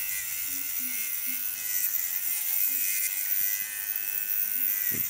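A Dremel rotary tool runs continuously while balsa model wheels are being made, giving a steady, high, buzzing whir close by, with a faint low voice murmuring underneath.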